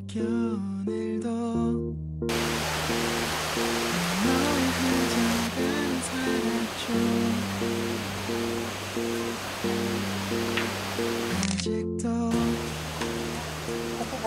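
A waterfall in Taiwan produces a steady, broad rushing hiss throughout, partly under prominent background music.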